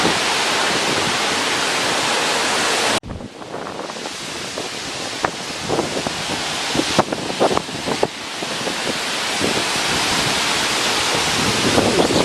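Strong wind gusts of Tropical Storm Isaias on Long Island roar loudly and steadily into the microphone, with a brief lull, then build back to a dense, constant rush.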